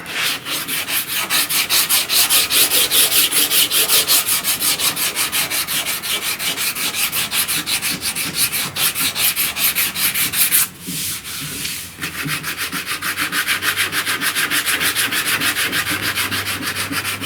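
Block sanding body filler with 80 grit sandpaper on a 1969 C10 door panel, loud close rhythmic rasping strokes with a brief pause before it resumes.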